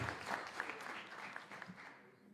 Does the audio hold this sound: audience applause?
yes